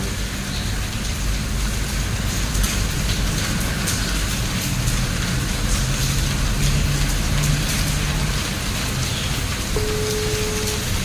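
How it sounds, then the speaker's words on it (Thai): Steady, dense rain pours down without a break, a loud continuous hiss of drops drumming on surfaces. "นี่ฝนตกอยู่"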